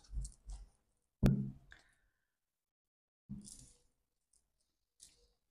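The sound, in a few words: cutting a deck of tarot cards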